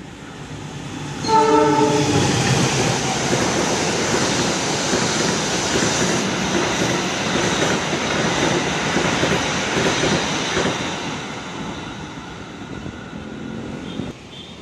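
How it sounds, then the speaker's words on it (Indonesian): A Jayabaya passenger train on double track races straight through Buaran station without stopping, loud and close. It rushes by with a sustained roar of wheels and carriages, and a horn blast sounds near the start. "Sisi barat double track melintas langsung kereta api Jayabaya."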